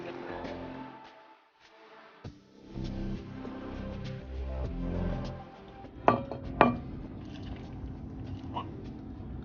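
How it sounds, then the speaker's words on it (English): Tongs lift a meal out of a pot into a bowl, making close metallic clinks and scrapes, two of them sharp taps, over a dull background rumble. "I'm dipping out the meal from the pot to the bowl with the tongs"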